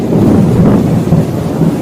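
Loud, close thunder rumbles deeply through heavy rain, a dense low roll that fills the moment without any voices.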